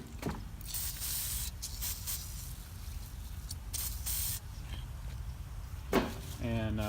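Penetrating spray hisses steadily onto the gas tank strap bolts of an 1985 Chevrolet C10 pickup, a loud, close, continuous spray with a few brief breaks and a voice speaking near the end.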